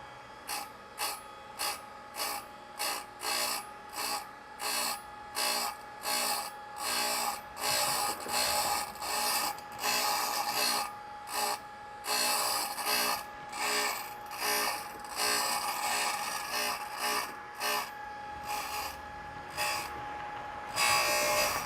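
Cutoff wheel on a surface grinder making repeated cutting passes, a steady run of rhythmic rasping bursts with brief gaps, close and fairly loud, no talking.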